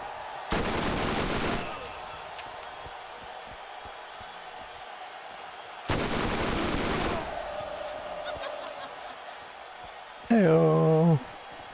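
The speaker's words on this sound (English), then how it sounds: "Super bad guys shooting into the" Enemy gunfire in Borderlands pounds a tent roof in two dense bursts about four seconds apart, each roughly a second long, then a short warbling tone closes it out.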